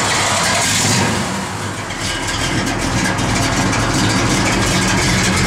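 A 1968 Dodge Dart GTS engine running loud and close, a steady heavy rumble that dips briefly and then settles into a strong, even idle.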